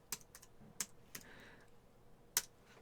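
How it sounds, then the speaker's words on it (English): Several crisp key clicks from a computer keyboard while a web address is typed, a few isolated taps spaced out over a couple of seconds, quiet and close with no talking. "I'll type it in, youtube.com"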